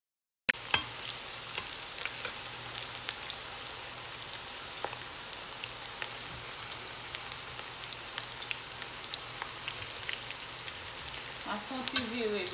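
Plantain slices fry in hot oil, a loud, dense, continuous sizzle with scattered sharp crackles and pops, starting abruptly and keeping steady throughout, with a few clinks near the end.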